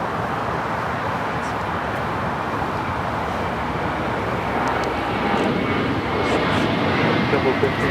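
A KLM Boeing 777-300ER lands on runway 25 Left at LAX, its engines giving a loud, steady, broadband roar that swells slightly toward the end, with radio talk running underneath.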